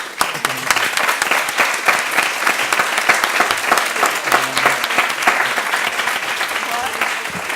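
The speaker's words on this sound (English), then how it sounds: "I just want to give everyone a round of applause" An audience applauds at the end of a talk on performance at a Tate museum event, with dense, sustained clapping from many hands filling the room and a voice faintly underneath.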